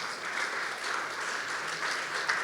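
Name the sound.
congregation applause in church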